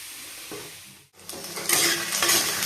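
Potatoes fry in hot oil in a home kitchen pan, sizzling as a utensil scrapes and stirs them; a brief pause, then louder, busier stirring and sizzle close by, with no talking.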